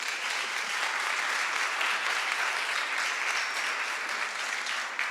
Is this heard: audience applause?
yes